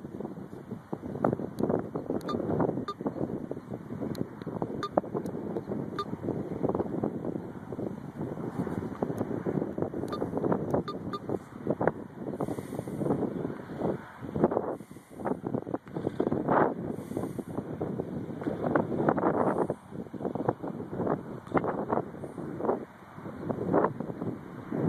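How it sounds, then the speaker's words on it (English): Wind blows around school wind turbines in a backyard, a loud rough rush of gusts buffeting the microphone steadily for the whole stretch, with no voices over it. "I think you can hear them, hear the wind"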